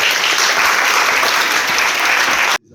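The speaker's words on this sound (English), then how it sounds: "Give him a round of applause." A conference audience applauds steadily and loudly for a guest about to speak, dense clapping filling the room alone before cutting off abruptly at the end.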